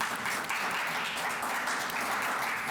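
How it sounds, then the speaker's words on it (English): Audience applause at a business luncheon event, steady and fairly quiet, a continuous wash of many hands clapping without talk. "Let's give them a round of applause."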